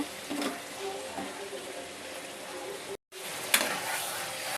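Chicken sautés in a pan with ground coriander, cumin and black pepper, giving a steady moderate sizzle with soft stirring scrapes, briefly cut off before resuming with a sharper clink.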